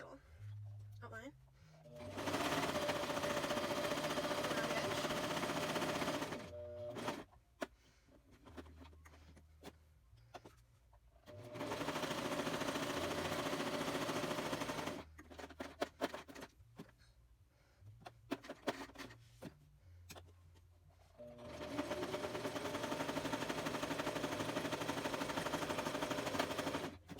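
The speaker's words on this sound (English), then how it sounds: "now I'm gonna sew" A sewing machine stitching pages of a large handmade junk journal runs in several long loud bursts of rapid mechanical whirring, broken by pauses with handling sounds and speech.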